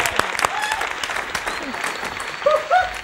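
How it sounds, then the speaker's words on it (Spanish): Studio audience on a television show applauding steadily at moderate volume for a few seconds, with voices talking over the clapping. "Un aplauso para todos nosotros"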